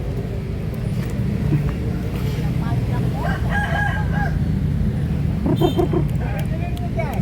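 Bangkok roosters crow and chickens cluck at a market in Makassar, Indonesia, amid a busy, noisy background of murmuring voices and traffic rumble.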